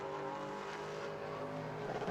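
A Pro Late Model race car runs a qualifying lap at New Smyrna Speedway, its engine a steady, loud drone held throughout with no talk over it.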